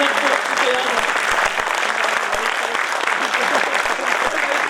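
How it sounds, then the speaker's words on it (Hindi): At a Hindi poetry recital, the audience gives the poets a loud, sustained round of applause, thick and steady throughout, with a voice talking over the clapping. "एक बार पुनः कवियों के शानदार ताली, जानदार ताली"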